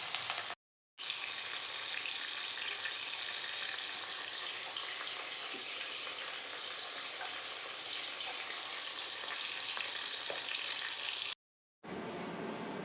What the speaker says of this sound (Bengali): মাখানো হচ্ছে, এবার ভাজা দেওয়া হলো।